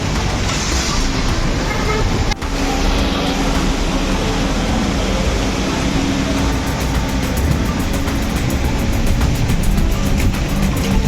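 Dense traffic noise fills a crowded Istanbul street, with a continuous loud roar of passing cars and buses under murmuring crowds and nearby voices.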